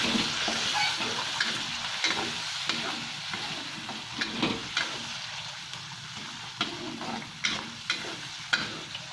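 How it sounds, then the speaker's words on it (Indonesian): Lemongrass, pandan, shallots, cinnamon, curry leaves and cardamom sautéing in oil for Acehnese duck curry, a loud dense continuous sizzle close up with intermittent stirring scrapes growing sharper toward the end, no talking. "serai, pandan, bawang merah, kayu manis. Kita tumisnya."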